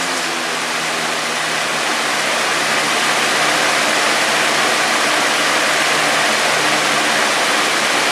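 Lasko box fan on medium speed: a continuous, even rush of air, slightly softer than high, holding steady without pauses or voices.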